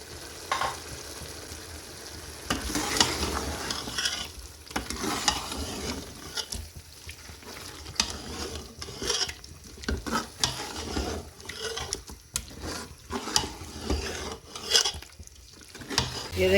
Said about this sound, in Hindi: ऑयल ऊपर आ गया है, अब हम इसमें अपना चिकन डालेंगे। चिकन को हम 3 से 4 मिनट भून लेंगे।